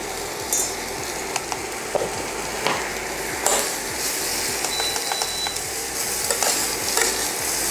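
Mixed vegetables with turmeric and salt sizzle as they are sautéed, with a steady frying hiss and repeated light clicks and scrapes of a spatula stirring the pan.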